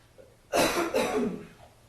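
One heavy, rasping choking cough close up in a courtroom, breaking into a second spluttering burst before trailing off; quiet otherwise.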